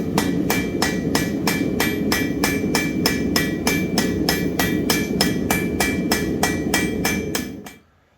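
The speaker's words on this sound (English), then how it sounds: "after forging some tapers and points onto some rebar" A new wrought iron hammer forges tapers and points onto rebar, striking in a steady rapid series of about twenty ringing blows over a continuous roar before the sound cuts off. No one speaks.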